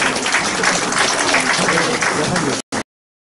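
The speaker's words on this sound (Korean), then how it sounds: "박수 한번 해주세요." Audience applause at a graduation and degree ceremony: dense, steady clapping from a crowd that holds loud and even for over two seconds, then stops abruptly after a brief final burst.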